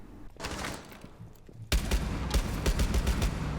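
Desert Eagle D50 pistol fire in the Rainbow Six Siege video game: a quick burst of sharp shots, then a louder, denser cluster of gunfire with game clatter, no talking.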